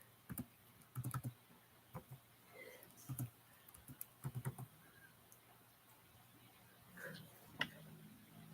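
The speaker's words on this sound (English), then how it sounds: "I'm just typing in there till I see the next question." Typing on a computer keyboard in a quiet room comes through as scattered bursts of close, soft key clicks with pauses between flurries, plus a faint background hum.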